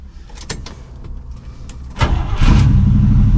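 A 1979 Camaro Z28 V8 starts up after a carburettor rebuild and tune-up: a few quiet clicks and brief cranking, then the engine catches with a loud rising roar and settles into a steady, rumbling idle close by.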